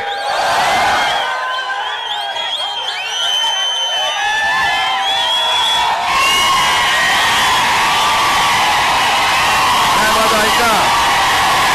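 A political rally crowd cheers and whoops loudly in a sustained roar, with shouts and whistles rising and falling throughout and voices mixed into the noise.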